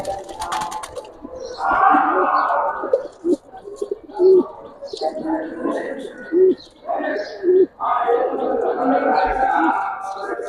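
Giribaz pigeons coo in low, throaty repeated calls close by in a farm cage, with people talking loudly over and between them.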